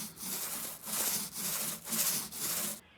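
A Whiz roller lays primer onto a wooden kitchen island in about five rhythmic back-and-forth passes, each a loud, close, rasping rub, before it stops abruptly.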